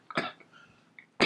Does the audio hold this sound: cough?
yes